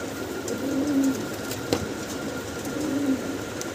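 Maltese pigeons in a cage give two soft cooing calls, low and close, over steady background hum with a single sharp knock midway.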